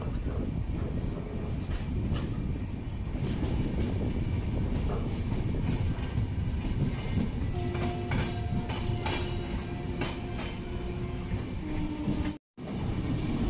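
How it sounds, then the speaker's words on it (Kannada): A train pulling into Yadgir railway station, a low steady rumble and rolling clatter of wheels and carriages with faint squealing tones and wind buffeting the microphone, continuous and moderately loud with no talk. "ನಮ್ಮ ಟ್ರೈನ್ ಈಗ ಸುಮಾರು 2 ಗಂಟೆ 12 ನಿಮಿಷ ಲೇಟಾಗಿ ಯಾದಗಿರಿ ರೈಲ್ವೆ ಸ್ಟೇಷನ್ಗೆ ಬಂದಿದೆ"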